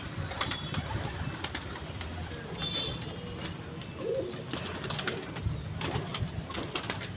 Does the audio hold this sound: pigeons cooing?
yes